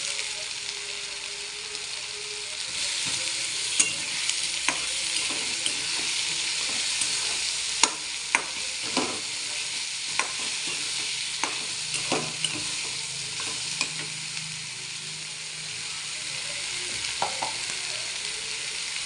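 Chopped ridge gourd frying in hot oil for a spiced vegetable dish, with a steady, bright sizzle throughout and scattered scrapes and taps of a stirring utensil against the pan.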